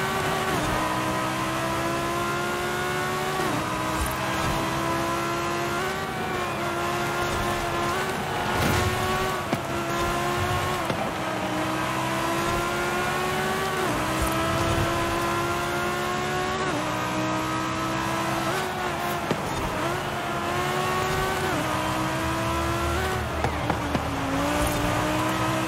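A Ferrari racing in Forza Horizon 5 howls loudly through repeated rising revs, each climb broken by a gear shift, at a sustained high pitch with no pause for the whole run.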